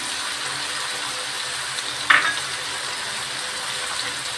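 Prawns frying in a pan with turmeric and salt, a soft continuous sizzle with a brief sharp hiss and clatter midway as something is tossed in or stirred.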